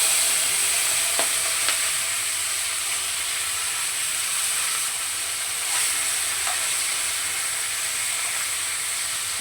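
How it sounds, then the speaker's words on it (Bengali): Small mola fish fry in hot oil in a wok with a loud, continuous, even sizzle and hiss close by. A few faint clicks pop through the steady spitting. "আগে মোরলা মাছটাকে ভেজে নেব।"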